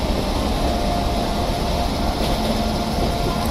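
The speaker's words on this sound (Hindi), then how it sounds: "बाकी यार लोकोमोटिव साउंड भी आपको सुनाई दे रहा होगा यहाँ से।" A WAP-7 electric locomotive hauling the Saurashtra Mail accelerates in Train Simulator (Railworks 2023), giving a continuous loud broadband rumble and hum with a faint whine, steady throughout and with no voices.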